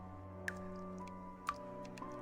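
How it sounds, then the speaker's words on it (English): Blood drips onto the floor in a video game, sounding as a few faint, sparse wet drips spaced about a second apart over a low, steady background drone. "It trickles down her palm and drips down to the floor"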